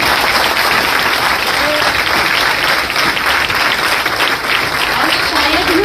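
An audience applauds loudly and steadily at a ceremony held for a candidate's father after the candidate's final selection for an HSSC clerk post. The dense clapping continues without a break, and a voice carries faintly beneath it.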